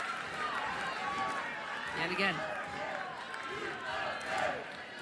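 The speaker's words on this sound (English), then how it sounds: "Crowd starts to come alive a bit" Crowd at a college softball game, Oklahoma Sooners against Arizona Wildcats, swelling into steady cheering and rising voices, with a commentator talking over the noise throughout.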